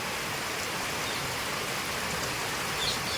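Rain falls steadily, giving a continuous, even hiss of drops that holds at the same level throughout, with no voices.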